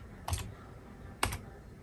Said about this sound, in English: we're going to type in the word chunky